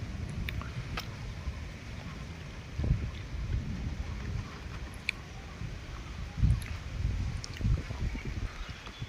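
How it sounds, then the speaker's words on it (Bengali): Heavy rain pours outdoors in a village, a dense continuous wash with low rumbling gusts and a few sharper spatters, fairly distant and steady, with no talking. "খুব বৃষ্টি একবারে"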